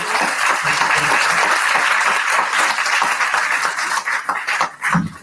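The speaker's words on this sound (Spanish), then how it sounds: "Entonces vamos a darle un fuerte aplauso." Sustained applause from the audience at a UX Nights Puebla talk, dense steady clapping filling the room for about four seconds before thinning into scattered claps near the end.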